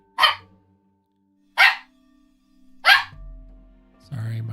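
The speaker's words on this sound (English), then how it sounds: "little doggy wants my attention" A small pet dog lets out three sharp, separate barks spaced evenly about a second and a half apart, close and fairly loud, followed by a low hum and faint noise at the end.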